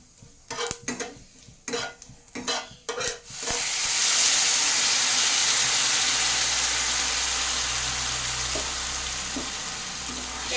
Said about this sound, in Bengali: জিরেটা ভালো করে একটু ভেজে নেব